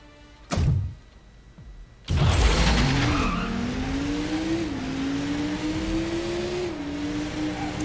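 An Autobot in vehicle mode in a Transformers: Revenge of the Fallen training level: a loud thunk, then tires skid and the engine revs up steadily, shifting gears as the car drives off.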